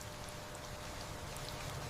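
Steady rain falling, heard as a soft, even hiss with scattered faint drops. It stays constant and fairly quiet throughout, with no voices.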